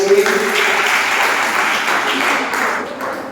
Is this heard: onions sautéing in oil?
no